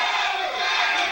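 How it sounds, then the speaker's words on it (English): A wrestling arena crowd roars and cheers throughout a tag-team match, a dense, steady wall of voices with no letup. "The crowd is on fire here tonight, and rightfully so."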